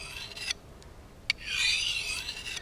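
Kitchen knife honed against a ceramic rod: a few light scraping strokes, a brief metallic tick, then a longer rising rasping swipe, close and quiet with no talk.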